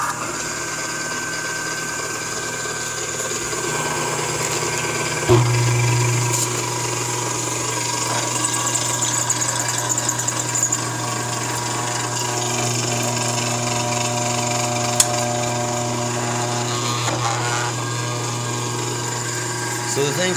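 A DV59 turret lathe running titanium nail bases in a trailer park machine shop, giving a loud, steady mechanical drone with humming tones, a few clunks and shifts in pitch, and a voice talking over it.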